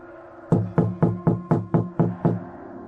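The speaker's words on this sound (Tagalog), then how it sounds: "Kakatok ako sa pinto." Someone knocking on a door, eight firm, evenly spaced raps in a quick steady rhythm, loud and close, with no talk.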